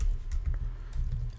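Quick computer keyboard typing, a short run of light clicks at close range over a steady low background hum, with no voices.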